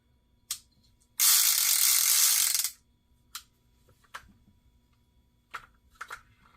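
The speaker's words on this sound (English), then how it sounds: "That's what they sound like when you cast them. It's really loud. Those flyweights." Daiwa SL30SH baitcasting fishing reel spool spinning freely on a cast, a loud steady whirring buzz from the flyweights lasting about a second and a half, framed by scattered clicks and handling taps.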